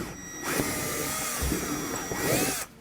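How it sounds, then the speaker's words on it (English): A power drill bores into the wooden floor of a trailer during installation of a T-style hook and keeper door holder, whirring steadily and loud for about two seconds, with the bit grinding through the wood before the motor stops. "you can go ahead and start drilling away"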